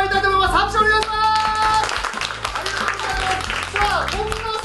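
Reporters and staff clap at a Japanese comedy press event, a light patter of applause mixed under music and a voice, fairly steady throughout.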